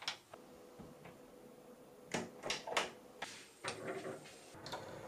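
A 3D-printed RFID door lock, driven by an Arduino Uno and a 5V stepper motor, unlocks with a quiet, close run of soft ticks and mechanical clicks in a room.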